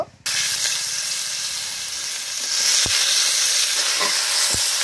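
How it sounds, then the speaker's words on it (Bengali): Potatoes fry in mustard oil in a wok, a loud, close, continuous sizzle and hiss broken by a couple of sharp clicks of stirring. "আলুগুলো একটু ভেজে নেব"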